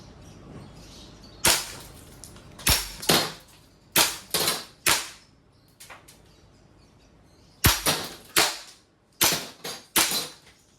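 A WE Airsoft M4 RIS V3 gas blowback rifle fires in semi-auto, sharp single cracks with snapping bolt action, some spaced alone and others in quick pairs or triples, loud and close with quiet gaps between.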